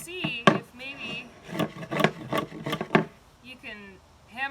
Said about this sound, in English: You can pry your nail up with the claw of your hammer, just like that.